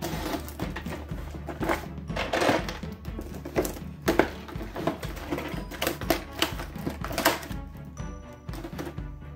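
A package being cut open with a cheap utility cutter, heard as a busy series of close, sharp clicks, snaps and scraping plastic rustles in irregular bursts with no talking.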